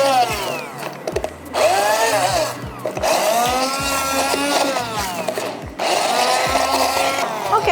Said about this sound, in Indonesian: Oke, kita blender.